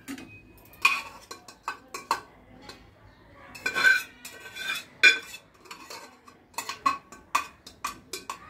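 Boiled vegetables are scooped from a pressure cooker into a kadai heating on a gas flame, with a series of sharp metal clinks and spoon taps against the pots, irregular and close, no talk.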